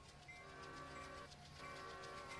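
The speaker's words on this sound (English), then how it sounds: "This is some footage that from trains that I used for the video." Trains in motion, a steady rumbling rail sound with sustained tonal lines suggestive of a horn or wheel squeal, continuous and fairly loud throughout.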